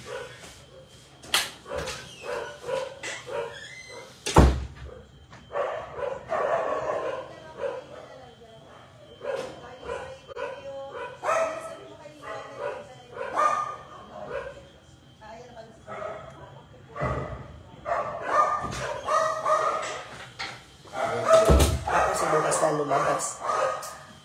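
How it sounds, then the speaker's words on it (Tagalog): A household dog barks and yips excitedly at the arrival of a fresh meat delivery from the market, with repeated sharp barks and whimpers scattered irregularly under ongoing indoor talk. "Mag-iingay ang aso namin for the next 5 minutes because dumating na yung delivery namin ng fresh meat galing sa palengke"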